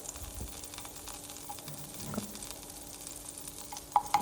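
Mustard seeds and asafoetida sizzle faintly in a tablespoon of hot oil, with some curry leaves, while being stirred. Soft crackles and small clicks sit over a quiet hiss, and a few louder scrapes come near the end.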